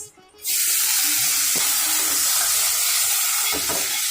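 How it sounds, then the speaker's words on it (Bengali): Shrimp frying in a frying pan give a loud, steady hiss that starts abruptly after a brief quiet moment, with occasional scraping and stirring clatter over the sizzle. "ফ্রাই প্যানের ভিতরে ভেজে নেব চিংড়ি মাছ"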